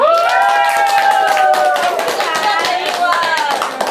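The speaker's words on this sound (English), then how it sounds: "Please give applause to ourselves." Members of a book club group clap for themselves at the end of their thriller stories review session, scattered hand claps mixed with overlapping voices and chatter throughout.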